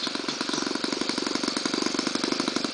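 A small Stihl engine idling close by, its low, uneven putter sputtering slightly as if near stalling, steady and unaccompanied by talk.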